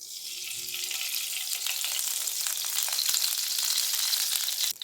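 Ghee sizzles in a pan over a medium flame, a steady close crackling hiss that builds slightly and ends with a brief clatter, with no talking.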